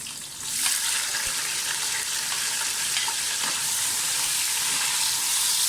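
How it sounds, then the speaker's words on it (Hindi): Onions fry with whole spices, including small cardamom, in a pot for biryani, giving a loud, steady, hissing sizzle that swells slightly after the first moment and holds close and constant. "पहले से तली अच्छी तरह से इनको गोल्डन फ्राई करें प्याज को।"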